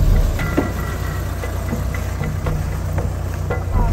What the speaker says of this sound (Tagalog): Nalubog na naman ang ating jeep na 4BC2. Pagkalakas-lakas ng makina, nalubog pa.